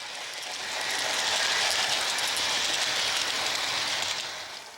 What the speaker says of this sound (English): We'll follow this A-Class as she easily whisks a passenger train down the line.